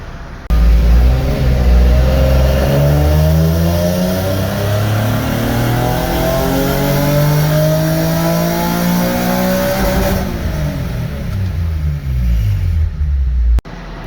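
A Nissan 370Z convertible's engine revs hard on a dyno during a tuning pull, its pitch climbing steadily for about ten seconds, then dropping as the throttle lifts, loud and close.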